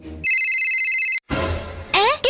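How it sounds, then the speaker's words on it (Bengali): A telephone rings with a bright electronic tone held steady for about a second, followed by rustling noise and then a short musical ringtone-like chime at the end. "কে ফোন করলো এখন?"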